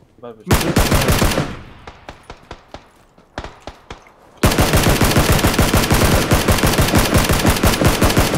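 M4 rifle fire in PUBG: a long rapid automatic burst, then scattered single and short-burst shots, before a loud sustained stream of fast gunfire, close and dominant.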